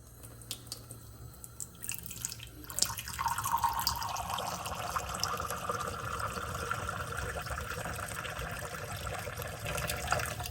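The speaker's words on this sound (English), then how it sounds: "we're gonna fill this with cool water" Cool water pouring into the tank of a Dr Prepare personal evaporative air cooler, a steady filling splash and trickle that starts with a few drips and then runs continuously and close.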